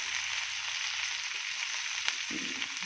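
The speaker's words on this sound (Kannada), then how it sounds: "ಇದು ಎಣ್ಣೆಯಲ್ಲಿ ಚೆನ್ನಾಗಿ ಫ್ರೈ ಆಗಬೇಕು" Finely chopped okra fries in hot oil with a continuous, even sizzle. It is close and steady, with no voices.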